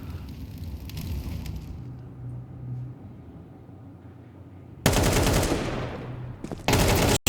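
Gunfire in an esports tactical shooter match, with rattling bursts at the start, a lull, and then two loud sustained volleys of rapid close shots near the end.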